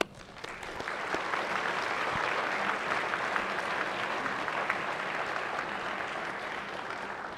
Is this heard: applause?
yes